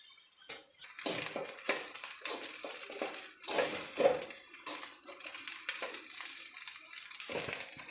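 Cooked rice and lemon juice are stirred together in a pan over low heat. A spoon scrapes and clinks against the metal in irregular bursts, close and fairly quiet.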